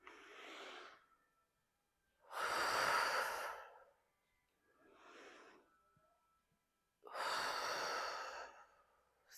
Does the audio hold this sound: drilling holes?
no